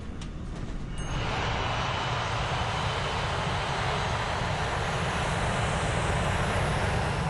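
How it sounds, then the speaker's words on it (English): Jet airliner engines spool up for takeoff, heard from inside the cabin as a steady broadband roar that swells after the first second and holds without pause. "At 1:25, Flight 243 is ready for takeoff."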